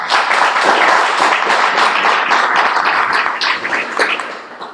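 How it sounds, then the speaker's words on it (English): Sustained, loud applause from an award ceremony audience fills the room, dense steady clapping that carries on throughout and thins slightly at the end. "I would applaud for that one."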